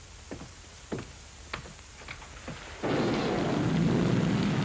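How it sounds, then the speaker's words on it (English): Several low thunder rumbles and cracks roll in one after another, then a steady heavy downpour of rain suddenly swells and continues. "The rain that's falling down,"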